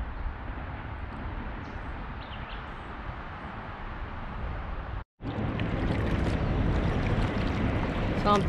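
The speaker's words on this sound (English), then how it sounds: "So I'm paddling up the Wateree." Kayak or canoe paddled upstream on the Wateree River against a strong current, with steady rushing water and wind noise close by and a brief cut midway, after which the water sound grows louder and fuller.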